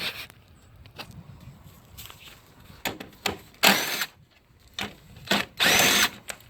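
Bursts of a power tool removing engine bolts from a 2017-2020 Nissan Rogue 2.5L, with several short loud whirring runs separated by pauses and small metallic handling noises, close up.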